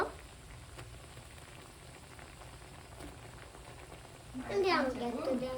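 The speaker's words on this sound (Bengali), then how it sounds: "এখন ম্যাগির জল গরম হয়ে চলে এসছে" Water heating in a pot for Maggi noodles, a low steady bubbling hiss throughout, joined near the end by a louder burst of singing voice over it.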